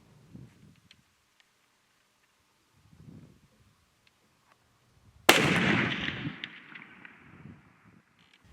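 A custom Hankins smokeless-powder muzzleloader fires a 225 grain Hornady bullet outdoors: one sharp, loud report midway that rolls off into a long fading echo, after a few faint quiet sounds.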